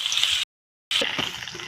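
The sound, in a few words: frying crushed garlic and ginger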